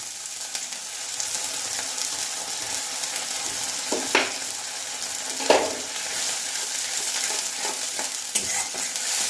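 Cumin paste and spices sizzle and fry steadily in a pan for a Bengali elephant foot yam and prawn dish, with a few sharp stirring scrapes standing out over the constant hiss.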